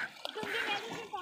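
A boy leaps into lake water with a quick splash while other children chatter and laugh nearby; the splash is short and close, mixed into excited young voices.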